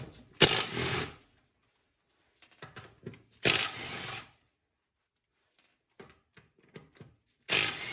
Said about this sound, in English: I'm going to be using a Ryobi impact with a 17mm deep socket.